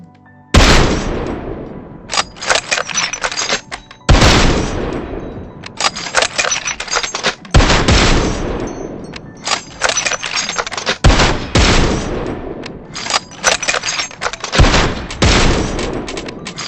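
Video game sniper rifles, including a Kar98K, fire a steady run of loud, booming shots about every two to four seconds. Each report trails off in a reverberant tail, with no voices over the gunfire.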